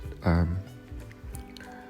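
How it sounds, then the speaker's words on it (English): Sake is poured into a pan of Japanese-style braised beef, giving a short liquid splash and drip that lasts about a second. "I'm just going to pour instead of using a tablespoon."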